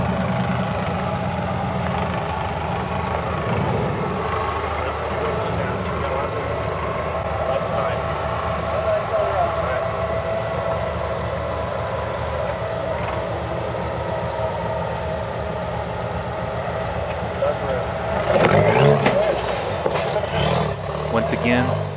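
A rock crawler's engine runs steadily through a rocky off-road competition course, a continuous low rumble that swells briefly near the end as it climbs and drops off rocks beside a big tree, with talk over it.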